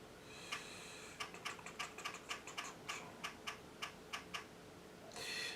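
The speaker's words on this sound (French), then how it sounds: "vous entendez en direct les bruits quand je tape sur le clavier" Fingers tap a computer keyboard in a quick, irregular run of crisp, close clicks over a faint steady hum, with no talking.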